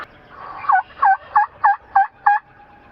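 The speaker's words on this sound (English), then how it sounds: "Now they just gobbled over here to my left" Wild turkeys gobble during a Pennsylvania spring gobbler hunt, six evenly spaced rattling calls in quick succession, clear and moderately close in open woods with no talk over them.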